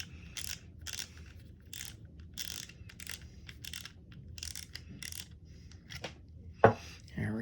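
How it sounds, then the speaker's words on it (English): A Pinnacle UB35 baitcasting fishing reel has its spool taken off, giving repeated small metallic clicks and ratcheting handling noises over a low background hum, with a sharper clack near the end. "We're going to start off by taking off the spool."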